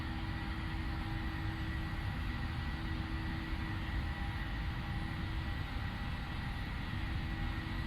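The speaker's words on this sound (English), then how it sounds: "I like the sound of these engines as well," Boeing 737-800 jet engines spooling at takeoff thrust in the PMDG flight simulator, heard as a steady, moderately loud roar with a constant whine and tonal hums and no pauses.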